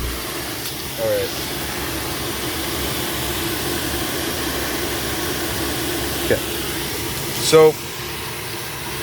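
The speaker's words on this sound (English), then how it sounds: "The engine's on" A 2020 Chevrolet Silverado 1500 Custom engine idles after a remote start, a steady low hum heard from inside the cab, with a brief spoken word and a couple of short clicks.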